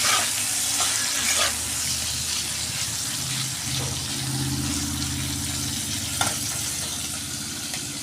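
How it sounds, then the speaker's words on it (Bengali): Drumsticks and papaya sizzle in hot oil in a home kitchen, a steady close crackle and hiss with occasional stirring scrapes, and no talk. "ওই তেলের মধ্যেই জাস্ট একটু নাড়াচাড়া করে একটু ভেজে নেব।"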